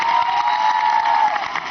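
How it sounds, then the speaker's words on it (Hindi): An audience at a women's skill training institute quiz show applauds a contestant, a dense continuous wash of clapping with a faint steady tone running through it. "अर्पिता जी के लिए तालियां"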